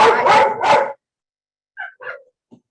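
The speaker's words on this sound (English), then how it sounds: "my dogs start barking" A dog barks three times in quick succession, loud and close, followed by a few softer yips and a whimper.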